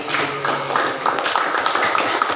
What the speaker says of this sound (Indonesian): Tepuk tangan dulu untuk kelompok Muhammad Yamin.